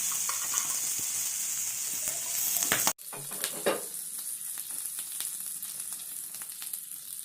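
Smoked pork fries in plenty of hot oil, giving a loud, continuous sizzle full of crackles and pops. It cuts off briefly partway through, then resumes with stirring noises.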